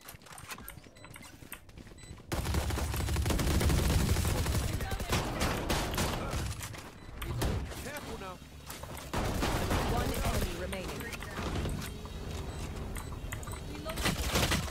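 Sustained gunfire from a Valorant match plays as loud, dense rapid shots that run almost continuously with brief pauses. Players talk over the shooting.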